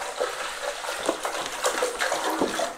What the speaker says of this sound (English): I will put a little bit more of the fluid here, of the demineralized water here.